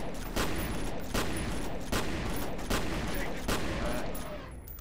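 Rapid gunfire rings out in the F.E.A.R. shooter game as an enemy is shot down, with loud bursts repeating at steady intervals over a dense, continuous roar of combat noise.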